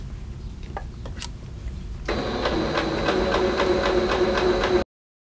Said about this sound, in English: pin them in place and then sew along the edge about a half an inch